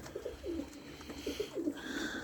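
Racing pigeons coo in a repeated low, rolling murmur close by, the calls coming in short overlapping bursts with no talking.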